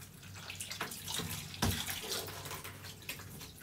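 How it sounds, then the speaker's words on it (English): Water runs steadily from a bathtub tap while a cat is washed, a soft continuous splashing hiss with a brief louder splash near the middle and no clear speech. "Turn off the water."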